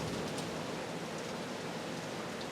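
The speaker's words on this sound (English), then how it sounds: "You could probably hear rain outside. A storm hitting." Steady rain from a storm falls outside, a constant hissing wash with no breaks and no distinct drops, heard faintly from indoors.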